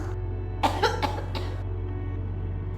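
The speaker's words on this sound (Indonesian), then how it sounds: "tapi kok batuk-batuk ya? Apa kedinginan?" A woman coughs several times in quick succession, a short cluster of dry coughs heard up close over steady low background hum in a quiet indoor room.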